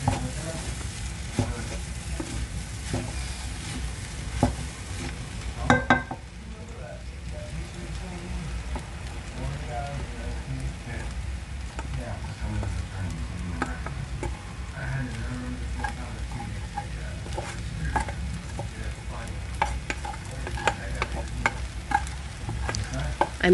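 Freshly cooked rice is stirred into a pot of jerk chicken fried rice: a steady sizzle runs throughout, with scraping and stirring knocks scattered over it and a brief louder clatter near the start.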